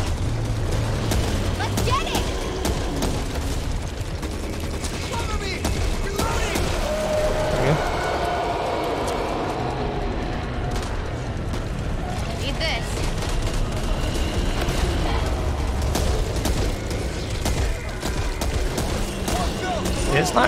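Dense, continuous gunfire and explosions in the video game Back 4 Blood, loud and chaotic throughout, with a player's voice talking over the battle noise.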